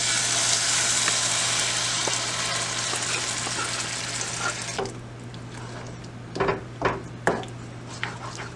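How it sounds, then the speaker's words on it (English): Food frying in a small amount of oil in a frying pan, a steady broadband sizzle for about five seconds that then drops away to a quieter hiss, followed by a few short clatters of a utensil or pan near the end. "A little bit of oil, not too much, just a little bit. And we'll fry this up and get it all nice and warmed up"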